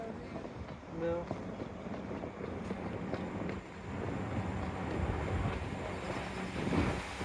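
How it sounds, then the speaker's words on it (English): An East Midlands Railway Turbostar diesel unit passes through a station on its run from Worksop to Nottingham, a rising, rushing rumble heard from a platform with some wind buffeting. "we've got an Eastlands Railway Turbo Star passing through from Worksop to Nottingham."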